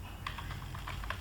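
Brisk keystrokes on a computer keyboard, a quick uneven run of clicks close up over a low steady hum, with no voice.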